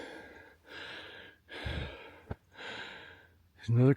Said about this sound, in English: Heavy breathing is me.